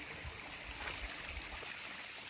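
A stream flows near a landslide in a coconut grove, giving a faint, continuous trickling rush with low gurgles underneath.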